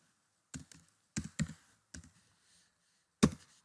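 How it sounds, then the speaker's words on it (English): A few sharp key clicks on a computer keyboard, coming in short separated bursts of one to three taps with quiet pauses between them, close and fairly soft. "You just type in volume"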